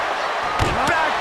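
A spinebuster slam in the WWE 2K25 wrestling video game lands as two quick thuds less than a second apart, a heavy impact and then a follow-up crash, over steady arena crowd noise.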